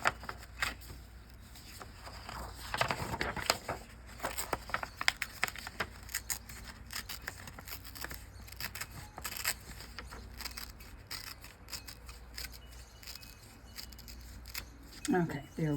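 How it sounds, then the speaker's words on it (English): Folded paper being torn slowly by hand for a card-soldier craft, a string of close, crackly rips and rustles with short pauses, and a voice talking briefly. "I'm just folding this over, and I'm going to carefully tear it"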